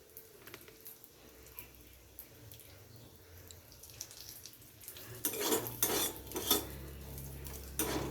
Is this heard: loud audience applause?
no